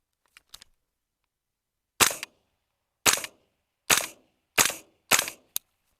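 A training rifle firing marking cartridges on a range: five sharp, loud reports spaced about a second apart, each decaying quickly into silence, with faint clicks before and a small click after.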